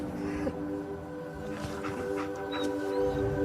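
A dog in a video game whimpers and whines softly, with short high-pitched cries over a low, steady musical background.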